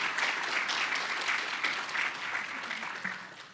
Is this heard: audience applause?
yes